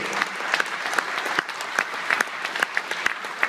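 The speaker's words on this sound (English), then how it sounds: "I think we should give him a round of applause for that, because he survived it." An audience applauds racing driver Johnny Herbert, who survived a horrific crash, with steady clapping and a few sharper claps standing out across a live talk-show crowd.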